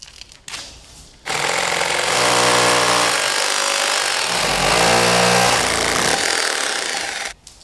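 A hammer drill bores through an insulation board into the masonry wall beside a patio door, a loud close rattling hammering roar that starts abruptly and runs steadily for about six seconds before cutting off.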